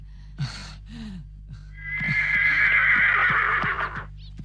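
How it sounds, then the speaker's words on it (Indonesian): A horse gives a loud, close whinny lasting about two seconds, preceded by a few short snorts and soft hoof knocks, with no talk. "kuda sudah siap"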